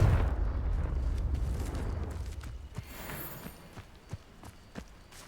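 A Confringo blasting spell explodes in Hogwarts Legacy. It starts as a loud, low rumbling blast that slowly fades, then a few scattered small knocks follow.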